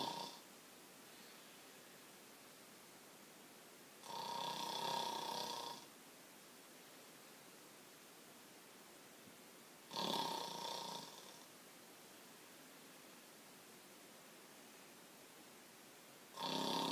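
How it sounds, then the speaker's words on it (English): A man snores loudly in bed, with three long rasping snores spaced about six seconds apart and quiet pauses between them. "did you know that helmet man snores so loud that he keeps his dog up at night?"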